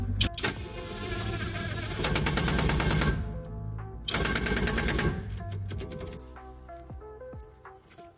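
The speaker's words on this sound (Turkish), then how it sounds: "Burayı da 19'da sıkacağız. Yine otomatik kademede 100 Nm'de duracak." An electric power wrench torques a 19 mm bolt to 100 Nm while rear shock absorbers are replaced on a Hyundai Accent Era. It sounds as loud, close bursts of rapid hammering, with two long runs and quieter clicks between them.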